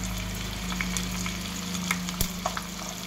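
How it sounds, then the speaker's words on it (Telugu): Dried red chillies and curry leaves sizzling in hot oil for a tempering, a dense steady crackle and hiss close up with a few sharp pops and light stirring scrapes. "ఎండుమిర్చి తాలింపులో కరివేపాకు అన్నీ వేసి కలిపి పసుపు వేయాలి"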